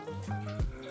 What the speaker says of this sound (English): I open it and pour the water back.